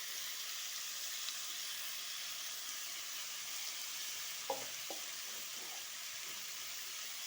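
Cucumber curry sizzles steadily in a pan while being stirred, a constant bright frying hiss with a few soft clinks of the utensil against the pan partway through, close and with no talking.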